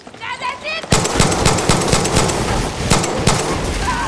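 A voice is heard briefly at first, then loud, continuous automatic gunfire from the video game Far Cry 6 rattles on with dense, rapid shots.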